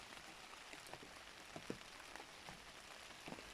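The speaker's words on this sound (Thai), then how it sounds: "อยู่ข้างนอกก็มีฝนตกมาแล้ว" Steady patter of rain falling outdoors, soft and continuous, with a few louder drops hitting a nearby surface.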